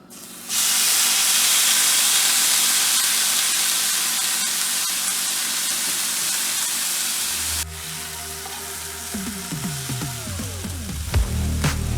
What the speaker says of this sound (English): the pork loin is just going to go straight into the dry pan